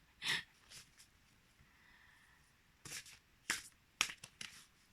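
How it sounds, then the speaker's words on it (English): A deck of very large oracle cards is shuffled slowly and gently, giving a few separate soft riffling bursts with quiet pauses between them, close and alone. "sorry, to shuffle them."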